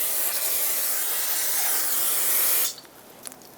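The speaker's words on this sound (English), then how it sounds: "Use a brake parts cleaner to just get all the brake fluid off that leaked." Brake parts cleaner sprayed onto a leaky brake caliper of a 2011-2018 RAM 2500 during a rear brake job, a close, loud continuous aerosol hiss that cuts off abruptly near the end, leaving a few faint clicks.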